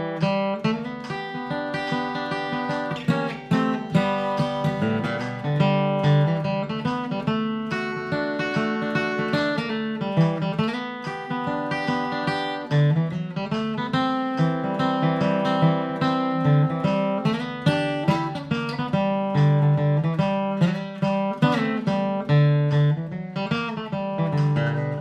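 Mandolin playing a bright, picked kickoff melody to the bluegrass tune Walking Cane, a continuous run of quick plucked notes and tremolo at an even tempo, clear and close with no talking.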